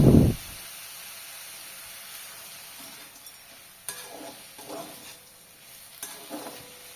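Duck meat fries without added oil in a wok over a high flame, a quiet continuous sizzle after a short thump at the start, with a few faint stirring scrapes.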